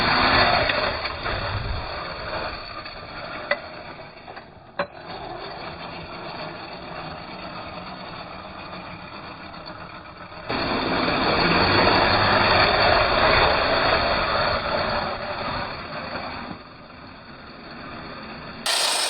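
An electric lifted GMC RC truck on 1/10-scale IMEX Red Rock tires churns through deep swamp mud, its motor whining steadily close by and swelling louder midway, with wet sloshing and no talk.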